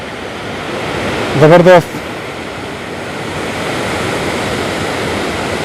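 Sadhery waterfall in Samahni roars as a steady, loud wash of rushing water throughout, with someone briefly speaking over it near the start.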